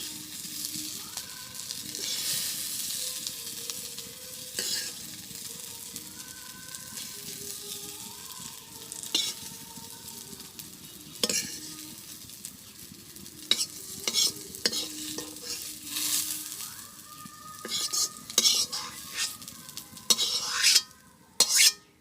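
Fried brinjal slices are stirred and lifted out of a pan of hot oil in a village kitchen, with a steady sizzle under repeated scraping and clinking of a spatula against the pan, growing busier toward the end.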